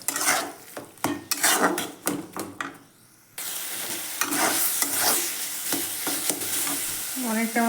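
Cauliflower fries with sugar in a pan while a spoon stirs it, giving a loud sizzle with repeated metallic scrapes and clanks; the noise drops briefly, then resumes at a steady hiss with more stirring.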